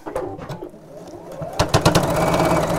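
A sewing machine stitches a seam across a zipped tote bag, its motor running in short bursts that build into a steady, close, fairly loud run near the end.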